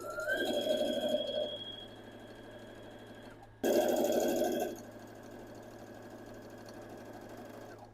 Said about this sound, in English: And then I will take it to the machine and sew it.